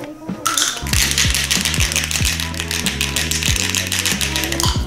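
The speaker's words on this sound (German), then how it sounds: "Wie viel Mal darf ich würfeln?" Dice tumble and clatter in a rapid series of hard little clicks and knocks, close up and continuous for several seconds with no talking.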